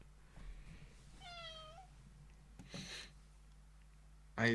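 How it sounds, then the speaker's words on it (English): A cat gives a few soft, short meows in a quiet room, with faint rustling and a brief louder knock at the end. "I need to feed this cat."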